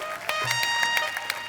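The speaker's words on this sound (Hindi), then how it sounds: "जोरदार तालियां इनके लिए।" A studio audience at a TV comedy talk show claps loudly in a steady wash of applause, with musical tones sustained underneath and a few sharper bursts rising out of the clapping.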